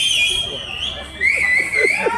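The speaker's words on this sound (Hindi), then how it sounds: "बजा के दिखाओ कैसे सीटी बजाते हैं।" A person whistles a thin, sustained tone that wavers and then slides upward, with a few short whistled notes after it in a room with faint background murmur.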